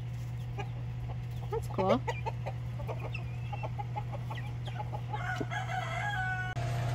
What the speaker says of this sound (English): Free range chicks just met up with the incubated chicks and they're getting along.